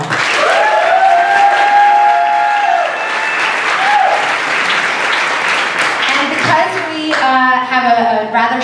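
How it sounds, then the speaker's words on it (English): Sustained audience applause fills the hall at a San Francisco mayoral debate, dense and steady clapping with some cheers, then fading as a moderator begins speaking over it. "ask people to hold a little bit of the rambunctious applause"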